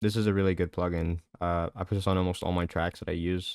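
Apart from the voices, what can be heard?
No distinct noise like a dog, phone or traffic.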